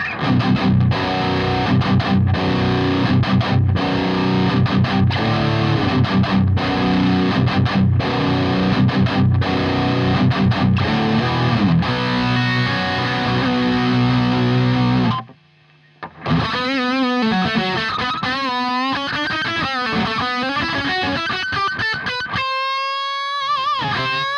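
Heavily distorted electric guitar through a Garland Tyranos tube amp head chugs and chords at high gain with slight background noise, a brief pause, then fast squealing lead lines and bends, loud and saturated.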